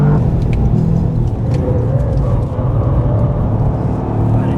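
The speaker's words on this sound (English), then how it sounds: "Sounds good, this 3-cylinder engine." The 2024 Toyota GR Yaris's three-cylinder engine drones steadily from inside the car while it drives on a road, a loud, continuous low hum with road noise and no talking.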